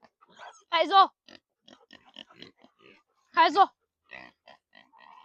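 Pigs grunt and oink at feeding time on a small farm, two loud harmonic squeals or grunts standing out close by, with scattered softer snorts and farmyard movement between them.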